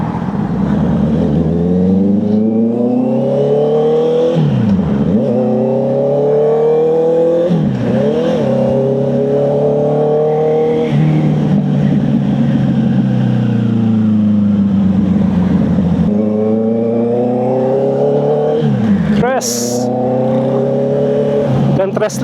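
A Honda CB650R with E-Clutch ridden in full manual mode through traffic. Its inline-four engine revs up and down repeatedly as it shifts through the gears, loud and close throughout, with wind rush and a brief higher whine near the end.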